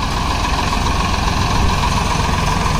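A blue Swaraj 855 tractor engine idles steadily close by, a continuous low diesel rumble with a constant mid-range drone and no pauses or voices.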